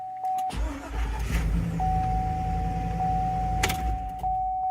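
A 2002–2005 Chevy Suburban engine starts after a starter motor replacement: a brief cranking burst, then a steady, loud idle rumble close by with a faint electrical whine running through it.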